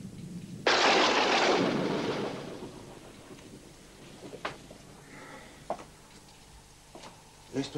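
A thunderstorm breaks with a loud, sudden thunderclap that rolls and fades over a few seconds, followed by quieter distant rumbles and scattered sharp knocks.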